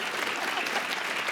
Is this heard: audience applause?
yes